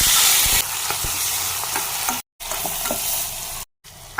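Green peas, tomatoes and green chilies sizzle in hot oil with a cumin tempering, a steady loud frying hiss with stirring clatter, broken by two brief silent gaps.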